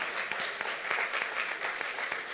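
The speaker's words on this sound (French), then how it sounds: "On applaudit Jésus." Church congregation applauding during a sermon, a sustained, steady round of clapping with distinct individual claps popping through, continuous and fairly close.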